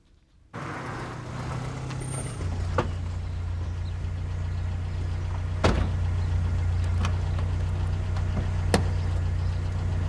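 A car starting up and pulling away outdoors, a steady engine drone with a few sharp knocks or clunks over it, heard without speech.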